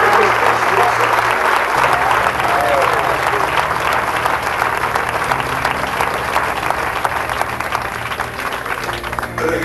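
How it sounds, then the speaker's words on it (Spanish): A church congregation breaks into prolonged applause, a thick, steady wash of clapping with scattered voices and a low sustained musical tone underneath. "Denle un aplauso al Señor"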